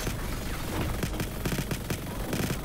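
Gunfire from the futuristic battle royale shooter Hyper Scape, a dense run of rapid shots and impacts through a loud, busy mix of game effects with no pause.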